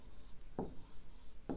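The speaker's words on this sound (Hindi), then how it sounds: "यहाँ पे मैं साइड में लिख रहा हूँ" A pen scratches across paper while a math problem is worked out, giving soft continuous writing strokes with a couple of firmer marks close up and quiet.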